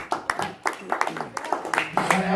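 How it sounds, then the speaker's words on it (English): Audience applause at a Tea Party patriots speaking event: a short run of scattered, fairly sparse claps at moderate distance, loosely rhythmic and irregular, rising slightly toward the end. "That absolutely deserves a round of applause"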